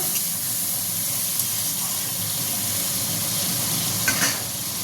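Tomato frying in a pan with a steady, loud sizzle and hiss of cooking moisture, continuous throughout with a few faint clicks and stirring touches.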